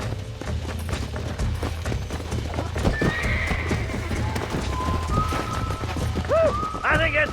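A horse in the video game Red Dead Redemption, its hooves clip-clopping at a run, then a loud neigh and whinny near the end, with voices over the hoofbeats.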